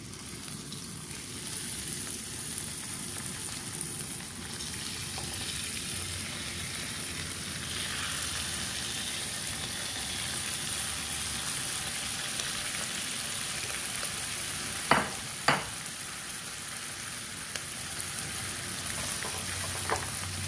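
Beef fries for fried rice in a pan, giving a steady close sizzle like light rain, with a couple of sharp utensil clacks against the pan partway through and no talking.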